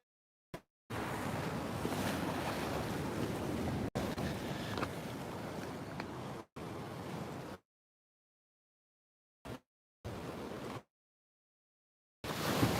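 Water splashing and waves breaking by a shore, loud and close with heavy wind buffeting, arriving in several separate bursts broken by silent gaps.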